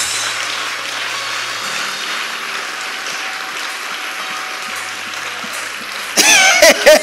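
Congregation clapping during a night church service, a dense continuous patter of many hands held at even loudness, then a burst of louder, closer clapping or cheering near the end.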